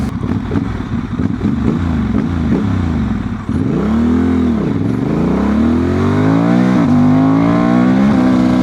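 A remapped Honda Transalp 750 motorcycle accelerating hard, loud and close, its engine note rising through repeated revs and gear changes into a sustained high-pitched wail with no talking.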